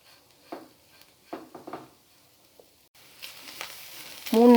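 Capsicum with masala and garlic sautés in a pan: soft, scattered stirring scrapes at first, then a steadier sizzle builds, ending in a brief, louder clatter.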